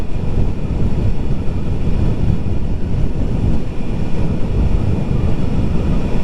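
Wind buffeting the microphone while riding a 2023 Sur Ron electric bike with a 38Ah battery, a steady, dense low roar that holds loud and unbroken throughout, with no voices.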